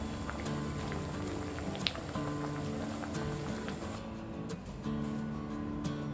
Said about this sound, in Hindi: हमारा ये रसम बॉईल हो गया है।